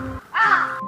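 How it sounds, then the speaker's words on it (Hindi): Cartoon crow giving a single loud, close caw, a short harsh cry with a bright tonal edge, set between quiet background music. "कालू ने भी काए काए की आवाज निकाली"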